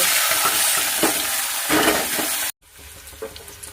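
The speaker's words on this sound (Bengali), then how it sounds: "কড়াইতে তেল গরম হয়ে গেছে এবার চিংড়িগুলো দিয়ে দেবে" Prawns frying in hot oil in a wok for a bottle gourd and prawn dish, a loud, steady sizzle for about two and a half seconds, then cutting off to a much quieter, faint crackle.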